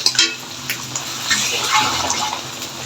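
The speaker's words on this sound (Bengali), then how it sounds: "মাছের যে মশলা মাখানো জলটা ছিল এটা দিয়ে দিলাম" Spiced fish marinade water is poured into a hot pan while cooking a pabda fish curry with vegetable stems. A close, hissing splash runs for a few seconds alongside faint clinks of cookware.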